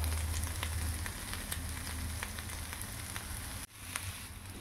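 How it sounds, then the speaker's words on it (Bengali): Potatoes with peas added frying in a pan for a Bengali aloo torkari, giving a steady, soft sizzle with light crackles throughout and one short dip near the end. "এবার এটা একটু ভাজতে দেব। সঙ্গে আমরা মটরশুঁটিগুলোও দিয়ে দেব।"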